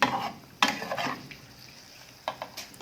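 Pork and red curry paste sizzle and hiss as they are stir-fried in a pan, with bursts of scraping and clattering from the spatula that fade to a quieter frying hiss in between.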